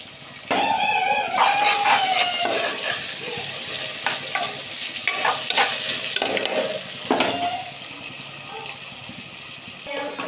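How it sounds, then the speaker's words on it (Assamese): Chopped onions fry in a pan for a home-cooked rice dinner, sizzling steadily while a spoon scrapes and stirs with repeated clinks, close and fairly loud throughout. "এইপিনে পিঁয়াজ ভজা হৈ গ'ল"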